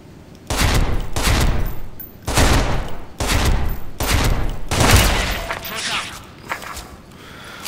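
Bursts of AUG A3 assault rifle fire in the shooter game Special Force 2, several loud volleys of rapid shots separated by brief pauses, with spoken commentary running underneath.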